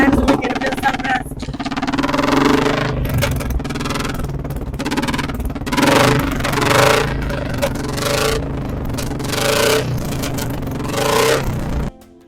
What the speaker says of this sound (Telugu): సౌండ్ అయితే చాలా గట్టిగా వస్తుంది ఫ్రెండ్స్,